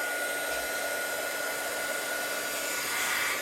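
A hair dryer blows continuously over craft shimmer spray paint, giving a loud, steady, close-up rushing whine that stays constant from start to finish.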